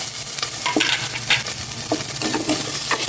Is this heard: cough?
no